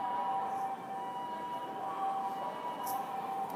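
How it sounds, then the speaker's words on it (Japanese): Ambulance siren on a street in Kabukicho, a steady wailing tone held for several seconds at moderate distance over traffic and city hum. "てか救急車通り過ぎだろ。"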